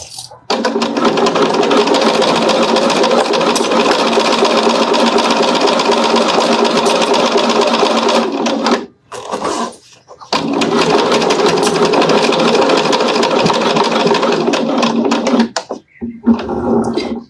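A sewing machine runs a long straight stitch, a steady close whirring hum for about eight seconds, a brief pause, then another long run of stitching before it stops.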